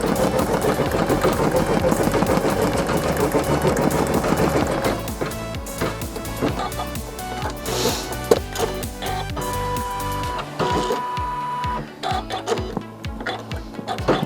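A sewing machine stitching couching yarn onto fabric, giving a close, rapid mechanical ticking and whirring that grows sharper and more clattery toward the end.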